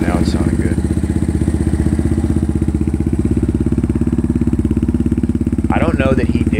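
A Yamaha Warrior 350 quad's engine idles close by in a steady, even chug, with a voice briefly heard over it near the end.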